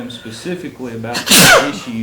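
A single loud sneeze bursts out during a county commissioners court regular meeting, cutting in right after someone speaking and standing out sharply against the room's quiet background.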